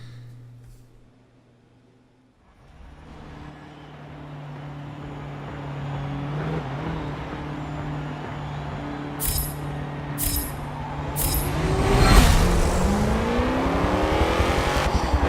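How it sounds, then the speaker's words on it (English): A modified car in Forza Motorsport 7 with a very big engine starts up after a low hum and builds into a loud, rising engine roar, with sharp revving peaks and a surge near the end. "The first thing that struck me about this car, even in the stock version, was that the monstrous sound it makes."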